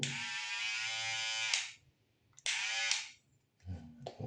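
An electric hair clipper switched back on after cleaning buzzes steadily for about a second and a half, cuts off, then runs again in two shorter bursts, close and fairly quiet with no talking.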